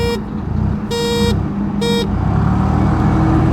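Two short, loud horn beeps from a 125cc scooter over its running engine, the second beep briefer than the first.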